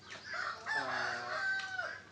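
A rooster on a chicken farm crows once, loud and close, a long drawn-out call with nothing else over it.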